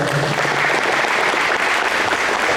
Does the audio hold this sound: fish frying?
no